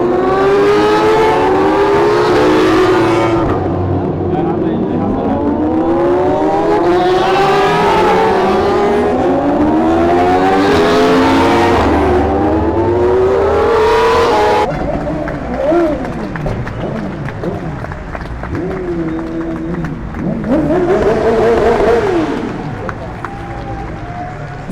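Racing motorcycles scream past at a 24-hour endurance race in Belgium, engines rising and falling in repeated loud sweeping passes with revving between them, under a background of crowd and spoken commentary.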